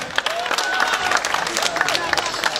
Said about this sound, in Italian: Allora accogliamola con uno straordinario applauso